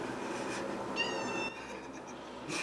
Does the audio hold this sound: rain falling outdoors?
no